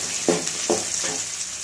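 Chilli and garlic sautéing in a pan for thumbai leaf thuvaiyal, a steady close sizzle with a few scraping stirs, no talking.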